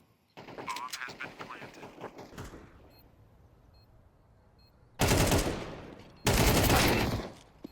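Gunfire in Counter-Strike 2 during a competitive league match: two loud, dense bursts of shots close together near the end, following a stretch of caster talk over quieter game ambience.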